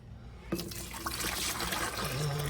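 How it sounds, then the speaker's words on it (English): Tea pours into a pitcher in a kitchen, a steady close liquid trickle and splash running throughout the short stretch with no talking. "I'm gonna pour the tea into the pitcher."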